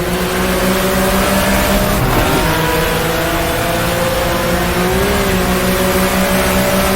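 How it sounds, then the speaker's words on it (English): Porsche RSR 74 race car accelerating in a racing simulator game, a steady loud engine drone with rising harmonic pitch through gear changes, continuous for several seconds with no talk. "Try to accelerate out onto the straightaway."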